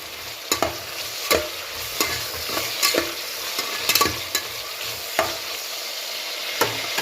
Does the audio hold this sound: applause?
no